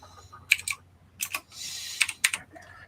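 Typing on a computer keyboard in short bursts of quick, crisp key clicks separated by brief pauses, close and fairly quiet.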